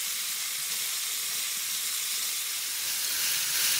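Tomato, dried tofu, wood ear and daylily stir-frying in a wok, giving a continuous bright hissing sizzle that stays steady and close and swells slightly at the end, with no talking.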